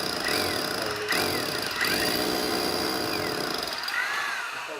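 A hammer drill bores into a wall for a shallow plug hole, a loud, continuous rattling grind close by that runs almost without a break and eases off at the end.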